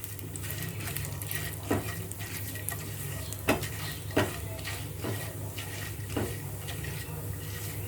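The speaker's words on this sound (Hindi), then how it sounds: "चना दाल और उड़द दाल। इसे तड़कने देंगे हम।" Chana dal, urad dal and mustard seeds tempering in hot oil make a steady close sizzle with scattered sharp pops and crackles and a few clinks of a pan, with no speech.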